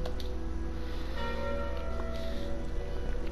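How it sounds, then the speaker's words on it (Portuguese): A calling bell relic in Slay the Spire rings out with a clear, sustained bell tone that lingers and decays softly across a few seconds, with no talking over it. "É o sino de invocação."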